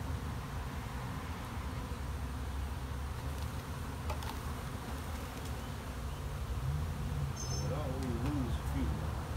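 Honey bees buzz around hive boxes outdoors, a dense, continuous hum of many insects at moderate distance, with individual bees droning past and brief faint voices.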